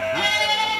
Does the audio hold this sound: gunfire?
no